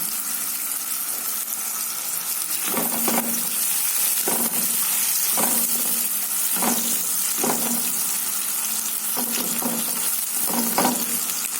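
Onions fry in a pan with a steady, close hiss, while a spoon scrapes and stirs them in about nine distinct strokes spread evenly through the sizzle; nobody speaks.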